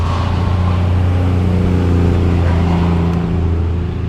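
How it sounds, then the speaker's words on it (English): A noisy diesel engine, from an RC 4-wheel-drive crawler, running steadily with a droning hum and slight rev changes, loud and close, with no speech. "Noisy diesels"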